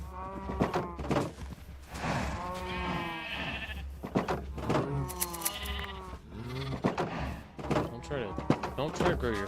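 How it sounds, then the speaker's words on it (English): Sheep bleat repeatedly over a steady low hum. The wavering, nasal calls overlap one another in a fairly close, continuous chorus. "Sheep."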